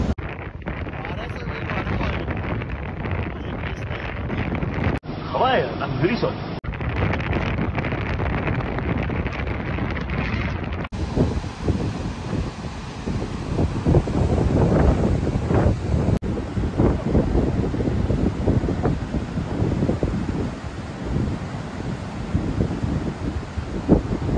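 Strong wind buffets the microphone at Devgad beach, a steady loud roar with surf underneath that runs without a break for the whole stretch, with a few abrupt shifts in level.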